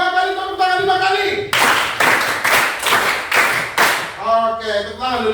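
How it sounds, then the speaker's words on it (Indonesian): Schoolchildren in an Indonesian classroom clap in unison about five times in an even, strong rhythm, between chanted group voices before and after the claps. "2 kali tepuk tangan 5 kali."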